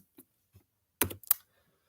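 A handful of sparse, soft clicks on a computer keyboard, then a short quick burst of keystrokes close by in a quiet room during a Hurricanes–Bruins hockey commentary.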